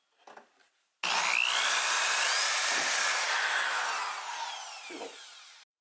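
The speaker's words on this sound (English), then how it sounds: "once you start drilling, once this touches the globe, do not stop drilling" Power drill with a 3-inch hole saw cutting into a fragile lamp globe: a loud, steady grinding whine starts abruptly after a faint lead-in and runs several seconds, tapering slightly before stopping.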